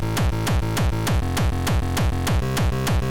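Frenchcore bassline from a Serum synth layered with a punchy distorted kick, pounding in a fast, steady four-on-the-floor pattern with gliding pitch drops on each hit, loud and dense throughout.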